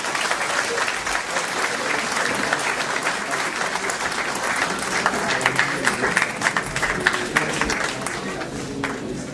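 Audience applause at a naat contest gathering in Holland as a shield is presented: dense, steady clapping from a crowd that fills the whole stretch at an even loudness, with faint voices mixed in.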